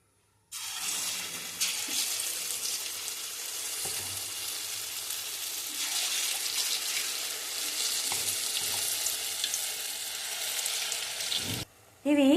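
Curd fritters (perugu punugulu) dropped into hot oil in a kadai, a loud continuous bubbling sizzle that runs nearly unbroken before a brief pause and a clatter at the end.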